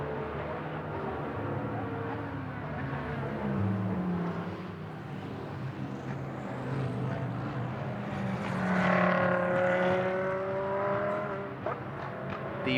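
GT race cars at the Moscow circuit, with a Nissan among them heading toward the pits, drone steadily at mid distance, their engine pitch sweeping up and down as the cars pass and accelerate.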